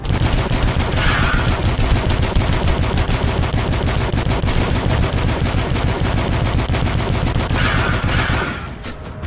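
Sustained rapid automatic gunfire in a shooter game, loud and close, a continuous burst of rattling shots lasting most of the span before cutting off near the end.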